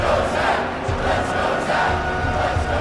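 A huge crowd at Michigan Stadium chants and roars, a loud, sustained wall of voices rising and falling in rhythmic swells, dense and close.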